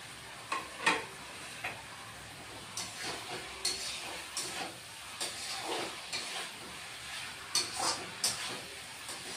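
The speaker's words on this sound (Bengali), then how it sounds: "এবার মশলাটা আরেকটু কষিয়ে নিব। এবার ভেজে রাখা ভেন্ডিটাও দিয়ে দিচ্ছি বন্ধুরা।" Spice masala and fried okra with potato being stirred in a pan, with soft sizzling under repeated scraping strokes of a spatula in an irregular rhythm, close and fairly quiet, no talking.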